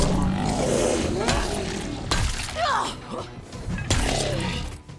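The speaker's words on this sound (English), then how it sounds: "Loud gongs will ring out when smashing a Z on the head with a sledgehammer." Sledgehammer blows smashing zombie heads in the video game Dead Island 2: several heavy, loud impacts with crunching, shattering cracks and ringing gong-like tones, interspersed with groans and a speaking voice.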